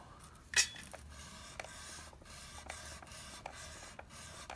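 Guitar frets being rubbed clean of corrosion with a fret cleaning system, faint quiet scratchy strokes repeating at a steady pace after a sharper knock near the start.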